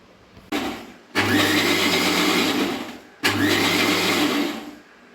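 A mixer grinder grinds cooked wheat in two loud bursts of whirring motor noise, about two seconds each, separated by a short pause, with no talking.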